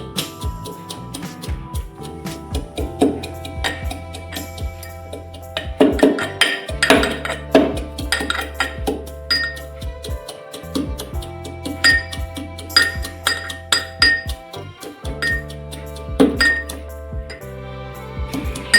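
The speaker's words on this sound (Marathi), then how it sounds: "मी दहा बारा लसणाच्या पाकळ्या घेतलेल्या आहेत त्यासुद्धा आपल्याला याच्यामध्ये अशा बारीक अशा कुटून घ्यायच्या" Garlic cloves pounded finely in a mortar with music playing: sharp irregular knocks and clinks of metal or stone strikes, some in quick runs, sitting close and clear over a melodic backing.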